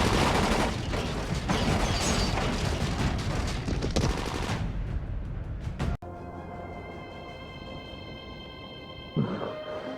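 Sustained loud gunfire in the zombie game Dying Light, a dense volley of overlapping shots for about six seconds. It cuts off abruptly into a quieter, humming tonal scene with one brief thump.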